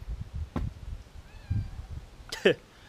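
A single short cat meow rises near the end, following scattered soft thumps and low background noise.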